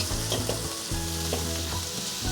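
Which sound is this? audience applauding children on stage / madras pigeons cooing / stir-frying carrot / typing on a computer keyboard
stir-frying carrot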